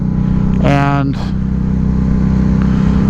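A 2006 Harley-Davidson Night Rod motorcycle on the road, its engine a loud, steady low rumble throughout, with a brief rising rev, while someone talks over it.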